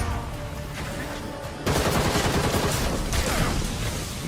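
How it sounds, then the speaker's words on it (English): Red Hood's shotguns firing in Gotham Knights, a loud dense blast of gunfire that begins partway in and continues as a sustained roar over quieter game sounds and music. "Those shotguns are pretty cool."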